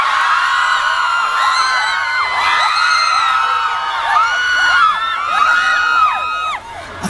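Festival audience at the Lubao International Balloon and Music Festival cheering loudly, with shrill shouts and whoops rising over a dense, continuous crowd roar that holds steady before dipping near the end.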